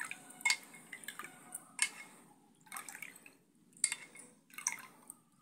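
Water is poured into a glass for homemade lemon juice, heard as intermittent splashing and dripping bursts at moderate, close-up volume with short pauses between pours.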